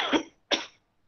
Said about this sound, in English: He doesn't only have a sore throat. He has a bad cough, too.